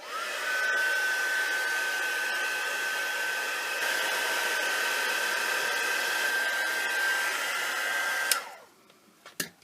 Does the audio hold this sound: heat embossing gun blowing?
yes